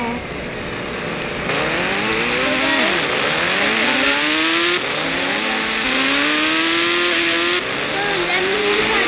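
An escape motorbike spawned by cheat code in a video game revs loudly and continuously, engine pitch climbing and dropping through repeated gear shifts with occasional tire squeal, a voice talking underneath.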